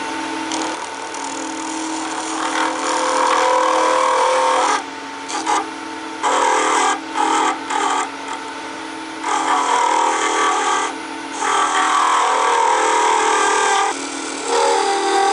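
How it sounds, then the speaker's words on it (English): A narrow parting tool cuts into a spinning aluminum bar on a lathe, giving a loud, continuous rasping scrape that breaks off and resumes in short gaps as the cut proceeds. "first I'm going to make a cut with an narrow parting tool"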